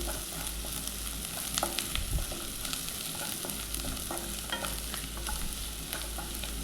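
Ginger garlic paste and turmeric stirred in hot oil in a pan for egg fry, with repeated spoon scrapes over a low continuous sizzle, close and fairly quiet, no speech.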